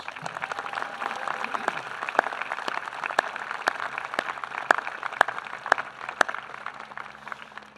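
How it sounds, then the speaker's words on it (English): At a 2017 commencement ceremony, an audience gives a round of applause that sounds fairly faint and distant, with sharp, separate claps standing out against a soft, steady clapping bed. "So if we could give all of those folks a round of applause."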